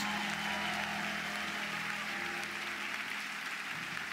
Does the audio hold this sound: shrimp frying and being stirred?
no